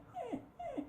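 A dog whimpers twice in close succession, each a short high whine sliding downward, near and clear against a quiet room.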